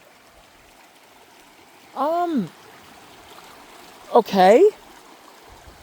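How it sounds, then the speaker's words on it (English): A river flows across a walking trail, a faint steady rush of water in the background, with two short bursts of a voice speaking over it. "We have to cross an entire river basically"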